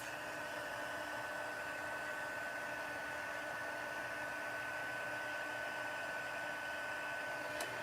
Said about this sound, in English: Kind of got my heat gun down because I figured that might help reduce the sound of it for you guys